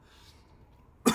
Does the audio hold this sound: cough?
yes